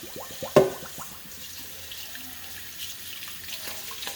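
Basmati rice is rinsed under running tap water in a kitchen sink, a soft steady trickle with a sharp splash and clatter near the start, then a low continuous flow, fairly quiet and close.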